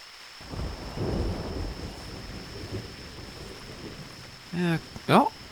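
Thunder rumbles during a rainstorm over a bay, a low rolling swell under steady rain noise, with brief voices speaking near the end.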